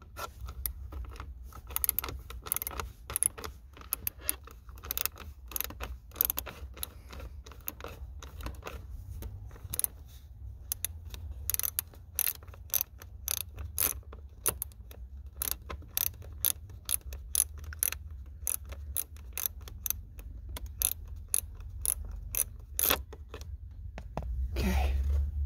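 A driver with a T20 bit takes out screws behind the dash of a VW New Beetle, giving a long run of rapid ratcheting clicks, close and fairly quiet, in bursts with short pauses.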